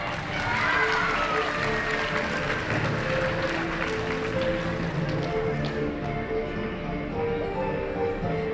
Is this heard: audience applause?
yes